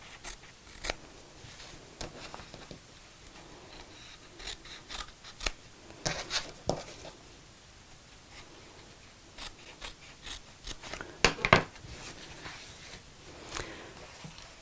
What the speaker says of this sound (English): trim this fabric quite close to the seam